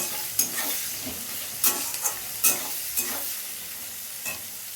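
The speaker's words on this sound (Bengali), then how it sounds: "পেঁয়াজটাকে একটু ভাজা ভাজা করবো।" Onions frying in a pan with a light background sizzle, broken by several sharp stirring scrapes spaced a second or so apart, close and fairly soft, with no voices.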